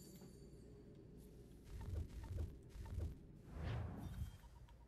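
Horse hooves thudding in a steady galloping rhythm while riding on horseback through colonial Boston in Assassin's Creed 3, a series of low, moderately loud beats over a faint game ambience, with no talk.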